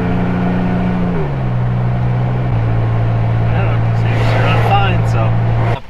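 A Jeep engine runs with no exhaust fitted, a loud raw droning note that steps down in pitch as it settles into a steady idle, with muffled talk and rustling near the end.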